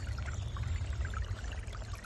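Water of a babbling brook trickles and pours steadily through an ancient pear and apple orchard, a continuous close, even flow with no voices.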